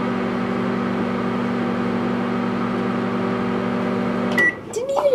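A microwave oven heating a marshmallow hums steadily and loudly for about four seconds, then stops with a clunk and a brief beep, followed by faint rustling.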